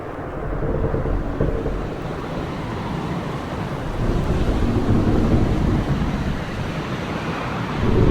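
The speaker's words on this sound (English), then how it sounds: "Their galleon cuts through the water, lancing towards the inevitable." A galleon surges through open sea in the video game Bloodstained: Ritual of the Night, a steady broad wash of waves and wind rolling on without a break.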